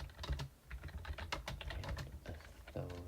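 Fingers type quickly on a computer keyboard, a close, steady patter of irregular clicks with no voices.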